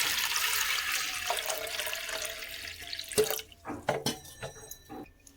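Water pours from a tap into a pressure cooker holding horse gram for rasam, a steady close rush for about three seconds, followed by scattered drips and light clanks as the flow stops.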